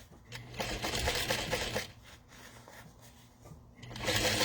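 A sewing machine top stitches a fabric wallet at a long stitch length, making a continuous mechanical whir that swells near the end, close and unaccompanied by speech.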